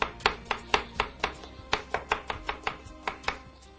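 Onions roughly chopped with a knife on a board for pizza, a steady series of about fifteen sharp, close knocks at an even rhythm, with no talking.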